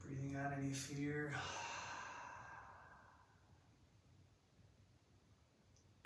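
A long, deep exhale during a breathing exercise begins with a brief voiced sound, then trails off into a soft, airy breath that fades to near silence.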